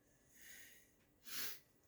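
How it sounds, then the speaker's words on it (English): A single soft sneeze, faint and brief, with a breathy intake before a short sharp burst near the end. "My sneeze."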